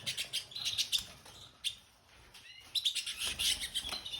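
Red canaries chirp and tweet in quick, bright bursts close by, with a short lull near the middle before the twittering picks up again, no voices.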